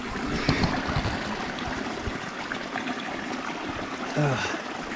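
Cold mountain stream water in New Zealand rushes and gurgles into a bottle being filled. The flow is a continuous close-up wash of splashing and burbling, with a short bubbling surge near the end.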